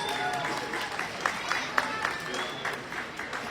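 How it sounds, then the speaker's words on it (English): Applause from a graduation crowd at a Charter College ceremony in Pasco, a dense steady roar of many hands clapping with a few sharper claps standing out. "let's give them a round of applause for helping you get to this point"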